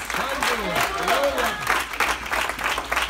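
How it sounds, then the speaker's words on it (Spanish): Church congregation applauding during a Spanish-language worship service, a broad, continuous wash of clapping with voices calling out over it. "Denle un aplauso al Señor."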